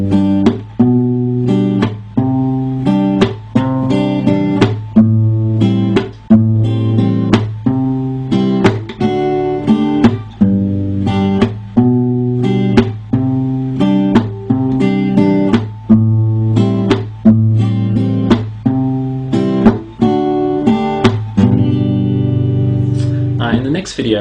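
Guitar works through a song's chord progression at near full tempo, with close, rhythmic strums and percussive muted hits repeating in a steady groove that continues for the whole stretch.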